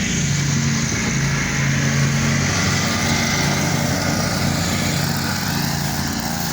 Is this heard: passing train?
no